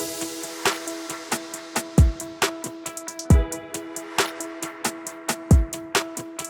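A steady beat of drums with punchy kicks and crashes, backed by sustained guitar and keyboard chords, playing loud and continuous.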